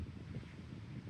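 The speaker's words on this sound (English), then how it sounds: "Wind gusts today are up to 40 miles an hour" Low, blustery wind with gusts up to 40 miles an hour rumbles and buffets the microphone in soft surges on the Appalachian Trail, fairly quiet, with no voices.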